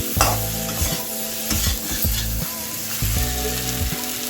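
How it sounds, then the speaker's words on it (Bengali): Fried potato and cauliflower pieces get stirred into a sizzling spice masala, with repeated rhythmic scraping strokes of a spoon against the pan over a continuous close frying crackle. "মশলার সাথে আলু আর ফুলকপিগুলো মিশিয়ে নিচ্ছি।"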